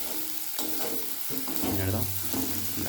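Spices stirred and frying in hot oil in a pan over a high gas flame for katla fish kalia, a close sizzle with scraping strokes of the spoon and a louder burst of frying midway.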